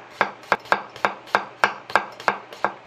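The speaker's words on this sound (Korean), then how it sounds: "칼을 살짝 들고 옆으로 사선으로 칼집을 잘게 내줍니다" A knife scores a cucumber with small diagonal cuts for a Korean accordion-style (jabara) cucumber pickle side dish: about nine crisp, evenly spaced chops on a board, close and clear, with no talking.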